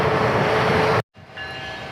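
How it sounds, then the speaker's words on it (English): A holiday train rolls past at close range, a loud steady rumble of rail cars for about a second before the sound cuts out abruptly, then resumes quieter with a faint thin tone. "this is the holiday train. Comes every year at the start of the festival."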